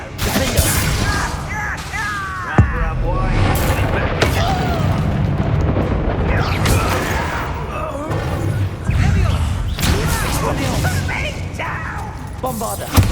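Bombarda blasting spells exploding during a Hogwarts Legacy fight, repeated loud booms and crashes over dense, busy battle sound lasting many seconds, with sharp bursts scattered throughout.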